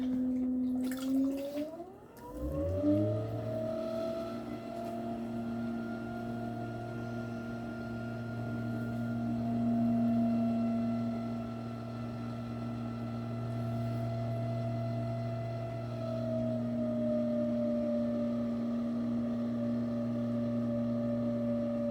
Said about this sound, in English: My wheel is also kind of noisy, but it is getting on in age.